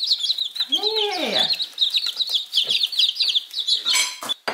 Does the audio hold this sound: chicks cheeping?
yes